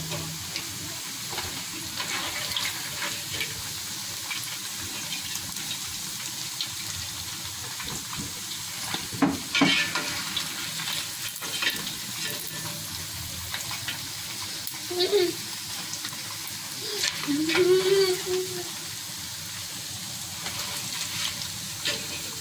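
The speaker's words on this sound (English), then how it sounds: "So you repeat the same process until you are done with frying the meat." Chunks of beef sizzle and fry steadily in a pot for stew, a continuous hiss with occasional stirring scrapes and brief clatters, with light talk faintly in the background.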